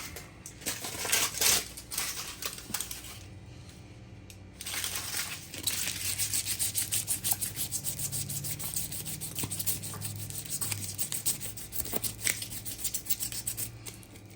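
Green bell pepper skin being scuffed and roughed up, a steady dry rubbing and scraping texture that carries on close and continuous for the whole stretch with no talk.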